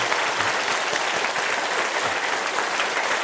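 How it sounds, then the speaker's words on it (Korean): Steady, dense applause from a congregation at a Korean church ordination and anniversary service, blessing newly installed elders, continuous and loud with no talking over it. "박수로 우리 축복하겠습니다"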